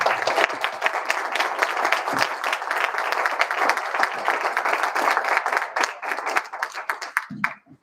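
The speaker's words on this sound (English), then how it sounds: "we had a speaker get applause both before and after they spoke" An audience at a school board meeting claps for a speaker: dense, sustained applause from a roomful of people that thins out and stops near the end.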